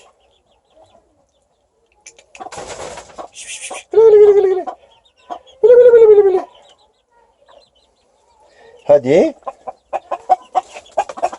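A rooster clucks and calls in short bursts close by, interleaved with a person's repeated calling voice.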